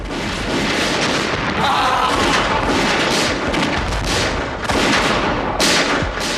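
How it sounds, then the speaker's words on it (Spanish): Machine gun fire in a 1998 war documentary, loud dense bursts and booming reports packed together in a continuous battle din. "el teniente Deas se apoderó de la ametralladora."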